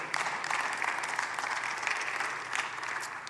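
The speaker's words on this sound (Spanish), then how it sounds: "Un aplauso a Cristo por eso." A Spanish-speaking church congregation applauds during a sermon, a brief, steady burst of many hands clapping at moderate volume with no talking over it.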